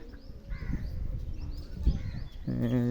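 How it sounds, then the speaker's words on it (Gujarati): Crows caw repeatedly around a temple compound where many birds live, the calls coming in short bursts at moderate distance amid general background noise, with a person speaking briefly. "એમ કેટલા પક્ષી છે। આ બધાનું ઘર જ અહીં છે"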